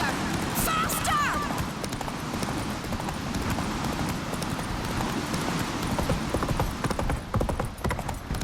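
Roach, a horse in The Witcher 3, gallops with a steady rapid clip-clop of hooves throughout, mixed with game sounds and a brief whooshing effect early on, with voices heard alongside.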